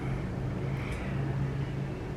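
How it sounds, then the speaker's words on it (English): Noisy road traffic outside a home, a steady low rumble of passing cars with a constant hum and no clear single vehicle standing out, fairly loud and continuous. "So, all kinds of noisy traffic out there."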